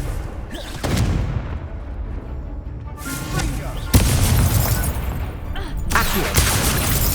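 Repeated blasting bursts of the Confringo spell in the Hogwarts Legacy game, loud booming impacts layered over busy game effects with spoken voices throughout.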